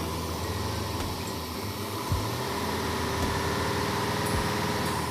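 A dually truck engine runs roughly as it struggles to idle: a steady, close mechanical rumble with a few low knocks and thumps, and no voices.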